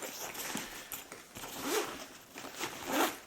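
A large zipper on a Milwaukee contractor tool bag is pulled open in a few rasping strokes, close and quiet, each pull a short scratchy burst.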